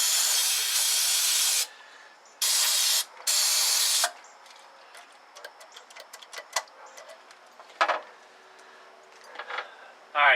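Three long bursts of WD-40 aerosol spray hiss, loud and close, followed by small clicks and scrapes of metal parts being worked on a 1964 Ford Thunderbird Convertible, with one more short spray near the end.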